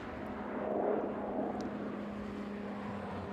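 Cargo jet departing East Midlands Airport at night, climbing into low-level mist: a steady, broad engine roar that swells slightly and then holds at a moderate distance, with no voices.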